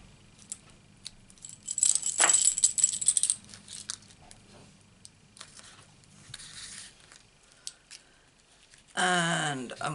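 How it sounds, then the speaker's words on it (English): Scissors snip a paper branch from a stamped card, close crisp cutting and paper rustling in short bursts, with a louder crinkling handling sound near the end. "I'm going to cut this branch off"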